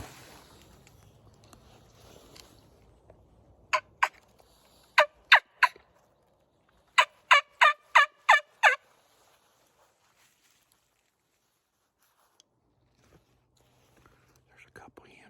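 A quick series of sharp, clucking wild turkey hen yelps in two bursts, fairly close, with quiet outdoor stillness before and after.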